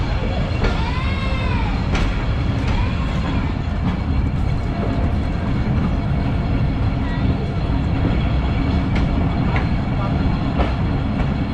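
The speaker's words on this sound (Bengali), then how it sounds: "আমাদের ট্রেন ছেড়ে দিয়েছে তার পরবর্তী হল্টের উদ্দেশ্যে" Dhalarchar Express passenger train pulling out of Kakonhat railway station, a steady loud rumble of the moving carriages with faint squeals and clatter, and voices talking in the background.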